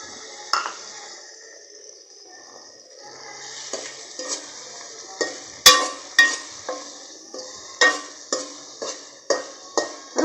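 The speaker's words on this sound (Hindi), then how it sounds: "हम इसको इतना भूनेंगे कि इसमें से हमारे टमाटर बिल्कुल मैश हो जाएं" Roughly chopped tomatoes being fried with masala in a pan, a soft low sizzle under a string of sharp metal spoon clinks and scrapes against the pan, growing more frequent and louder toward the end, no speech.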